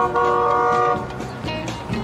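A loud car horn blares like a train horn, a sustained multi-tone blast lasting about a second before fading into rumbling background noise.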